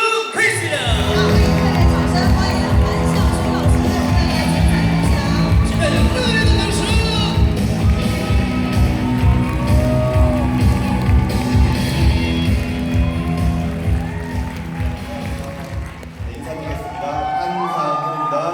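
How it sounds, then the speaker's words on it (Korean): A large audience at a 2019 Nu Skin rally cheers, whoops and applauds continuously for a presenter, a loud sustained crowd roar that fades slightly near the end. "한상우 상님의 뜨거운 박수를 모시도록 하겠습니다"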